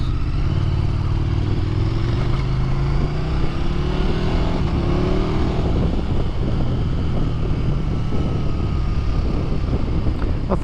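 KTM Super Duke GT motorcycle engine while riding on the road, a continuous droning engine note with rising pitch as it accelerates, mixed with steady wind noise, close and constant throughout.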